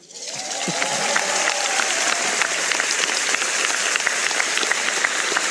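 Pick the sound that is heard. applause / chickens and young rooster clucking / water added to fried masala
applause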